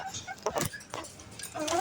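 Caged chickens cluck and call in short, close bursts, with a few sharp squawks scattered through a brief stretch.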